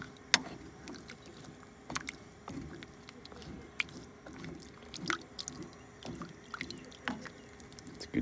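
Pork fillet stew is stirred in a pot over a camp cooking setup, producing faint, soft wet squelches and scattered small knocks of the utensil, with quiet outdoor background.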